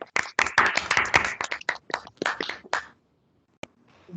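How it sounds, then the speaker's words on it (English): A small group claps by hand after a role play scene, close and distinct individual claps in a quick uneven patter lasting about three seconds, then a single stray clap and near silence. "a big clap for you all"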